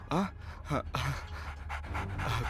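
A dog panting in quick, close breaths, with a person's voice speaking over it.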